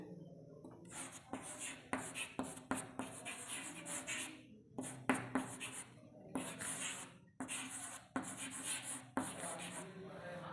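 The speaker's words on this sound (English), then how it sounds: "first I will write" Marker or chalk strokes scratch across a classroom board in short bursts with brief pauses, close and fairly quiet, with faint room noise and no talking.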